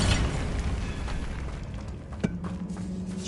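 Bombarda spell explosion in the Hogwarts Legacy video game, a deep rumbling boom that fades into a low reverberant tail, with a sharp click partway through and no talking.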